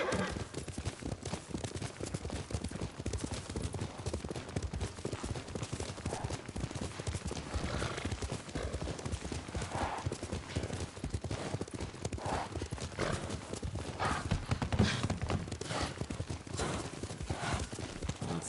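Horse hooves clip-clopping at a steady riding gait in the video game Ghost of Tsushima, a continuous close rhythmic patter that carries on for the whole stretch with no talking over it.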